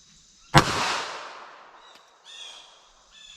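A single sharp report from a Ruger LCP .380 ACP pocket pistol firing flat point ammunition, a close, loud crack followed by a decaying echo tail, with faint chirpy background sounds afterward.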